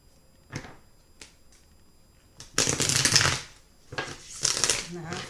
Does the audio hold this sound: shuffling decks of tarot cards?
yes